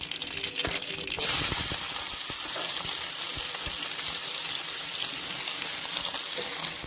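Chopped onion drops into hot oil with cumin and mustard seeds in a kadhai, setting off a sudden loud, close sizzle that keeps crackling steadily to the end.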